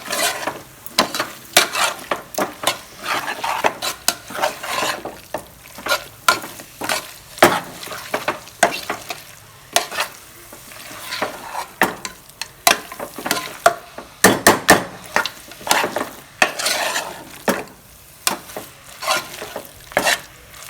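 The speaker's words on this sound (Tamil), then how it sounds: "இந்த கறி இருக்குது பாருங்கள் அதையும் அப்படியே எடுத்து போட்டுக்குவோம் போட்டு நல்லா வணக்கிக்கலாம்" Mutton sizzles as it is sautéed in a pan for mutton kulambu, with a spoon scraping and stirring in quick irregular strokes over the constant frying hiss, close and fairly loud, no voices.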